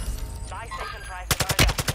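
Video game gunfire: a rapid burst of close, loud shots in quick succession, like automatic fire, comes after a stretch of quieter background sound.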